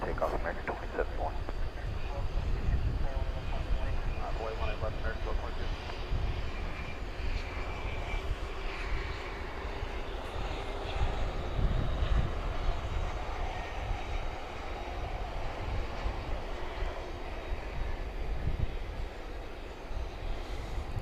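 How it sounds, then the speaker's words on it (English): A CRJ regional jet rolls for takeoff at night at DFW Airport, a broad, steady distant engine roar that swells gently, with a person speaking over it. "There goes a CRJ."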